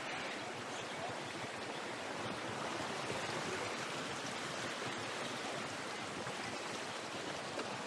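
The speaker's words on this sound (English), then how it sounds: "So this is the top of the waterfall" Water rushes steadily at the top of Sixty Foot Falls on Ellis Brook, a constant broad roar of falling and flowing water that never pauses, close and uniform.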